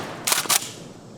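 A KSG-12 bullpup pump shotgun fires twice in quick succession outdoors, two loud sharp blasts about a quarter second apart, each trailing off briefly before the clip falls quiet.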